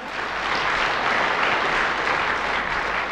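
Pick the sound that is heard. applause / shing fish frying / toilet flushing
applause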